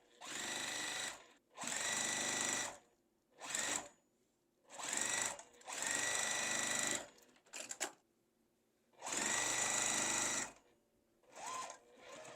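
A sewing machine stitches quilt block seams in repeated bursts of rapid mechanical whirring, each run lasting a second or two and separated by short pauses, close and clear with no talking.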